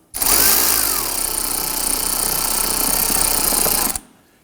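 A power tool tightens bolts during a knock sensor replacement on a 2008–2011 Ford Focus 2.0L four-cylinder, giving one loud, continuous whirring burst of about four seconds that cuts off abruptly.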